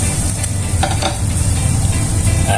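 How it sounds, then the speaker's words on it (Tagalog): Beef bulalo soup bubbling in a covered pot, a steady, close, dense sizzling and bubbling hiss that holds evenly throughout with no talking. "At ngayon medyo kumukulo na."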